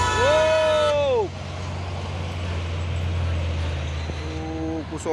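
A tanker truck and a box truck pass close by on a road, a steady heavy engine rumble with a brief horn-like tone at the start and end, loud and continuous.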